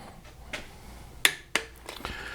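Torque wrench on a 2008 Pontiac Grand Prix GXP valve cover bolts set to 8 foot-pounds gives a few sharp, quiet clicks as the set torque is reached, spaced apart over faint background.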